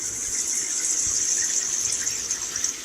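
Steady rush of water from a newly installed handheld shower head in a home bathroom, a continuous bright hiss running unbroken and fairly close throughout.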